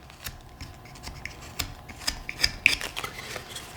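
A knife carving a wooden horse tail, removing bandsaw cuts, makes short, close scraping and rasping strokes at an irregular rhythm, with a few faint clicks and no talk.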